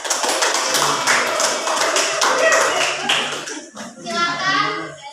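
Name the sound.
classroom applause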